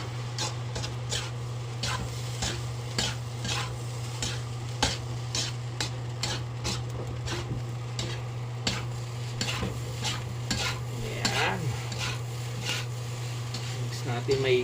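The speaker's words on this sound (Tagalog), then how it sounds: "haluin ulit natin guys" Fried rice is stirred in a pan with repeated scraping strokes and a soft sizzle, set against a steady low hum from a kitchen exhaust fan.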